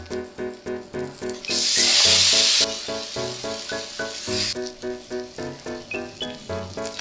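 Two strips of bacon sizzle on a hot Japanese griddle while okonomiyaki is being made, a loud burst of hissing frying rising over steady rhythmic background music and then fading back beneath it.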